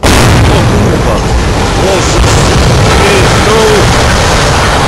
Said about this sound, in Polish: Będzie zaraz mały wybuch.